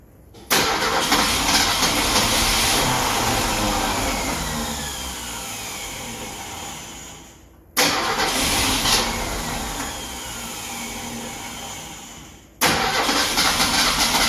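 Willys wagon engine in a home garage, cranked and fired up loudly at close range, running roughly and revving for several seconds, then dropping out and restarting twice in broad, noisy bursts.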